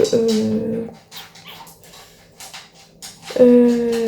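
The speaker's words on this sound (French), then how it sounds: "Ma chienne fait énormément de bruit quand elle mange." A female dog makes noise while eating: whiny, yelping vocal sounds open and close the moment, with quieter snuffling and chewing noises in between, close to the microphone.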